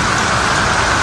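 Heavy rain pours down steadily beside a roadside corn stall on the Mumbai-Goa highway, a loud, dense wash of drops with no pauses and no voices.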